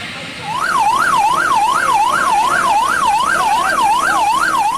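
Fire engine sirens from two South Bangka fire trucks wail as they arrive at a burning LPG gas-cylinder truck, a loud rising and falling siren cycling steadily over rumbling traffic.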